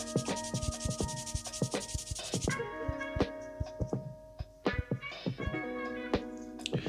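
Close, steady rubbing strokes of a sanding sponge over a miniature figure, with a few sharper taps mixed in and some music in the background.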